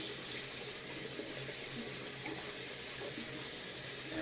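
Tap water runs steadily into a sink as a stuffed toy is rinsed and squeezed under the flow, a close, continuous splashing hiss with no pauses.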